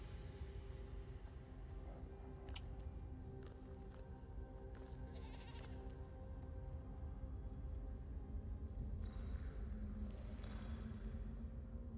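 A goat in Elder Scrolls Online gives a few faint bleats over a low, steady game ambience, with more distant bleats later on.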